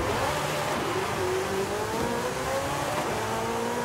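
Bubble car engine accelerating in Forza Horizon 5, a buzzy small engine revving upward steadily with rising pitch, loud and continuous, with no talk over it.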